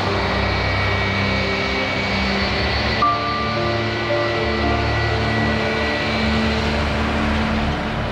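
Steady droning engine roar of a Boeing 737-300 airliner taking off before dawn, with a constant tonal whine, loud and sustained throughout without any voices.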